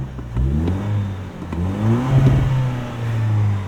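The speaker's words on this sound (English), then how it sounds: "This probably has a TRD exhaust." A 2025 Toyota 4Runner TRD Pro engine revs up and down several times through a throaty sport exhaust, loud and close, with rising and falling pitch and a brief clatter.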